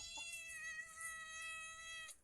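A pregnant cat gives one clear, drawn-out meow, close and fairly loud, with a quiet background and no talking.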